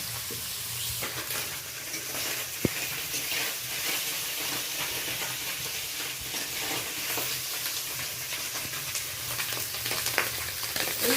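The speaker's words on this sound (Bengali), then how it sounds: "মাছগুলো এবার ভাজা হয়ে গেছে কড়াই থেকে আমি তুলে নিচ্ছি" Small fish frying lightly in oil in a wok, a steady, moderately quiet sizzle and hiss with occasional faint clinks and stirring, no voices.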